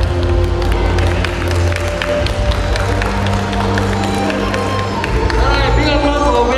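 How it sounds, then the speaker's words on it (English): Applause and cheering from a festival crowd at the close of a Tanabata Festival contest, a dense, steady wash of clapping and voices with music and talk mixed underneath. "Alright, big applause for the winner"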